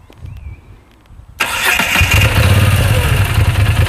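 After a quiet moment, a 2016 Moto Guzzi V9 Bobber motorcycle engine abruptly cranks to life and settles into a loud, rumbling idle close by.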